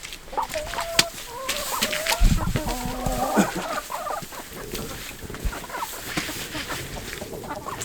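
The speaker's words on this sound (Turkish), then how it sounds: "Evet arkadaşlar görüyorsunuz tavuklarım köy tavuğudur." Village chickens cluck and call in a farmyard, several birds nearby with scattered sharp clucks and short squawks over a busy, rustling background, no talk.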